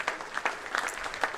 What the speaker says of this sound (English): good round of applause there